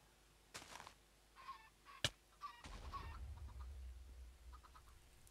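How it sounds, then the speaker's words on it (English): Minecraft chickens cluck in short scattered bursts, fairly faint, with a sharp click and a low rumble of game noise partway through; no speech. "Chickens"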